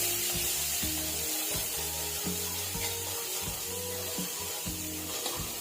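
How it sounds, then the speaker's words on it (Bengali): Chopped ginger and green chilli fry in hot oil in a pan, a steady broadband sizzle with low rhythmic scraping of stirring beneath, close and continuous without speech. "আদা আর লঙ্কা খুব ভালো করে ভেজে নেব।"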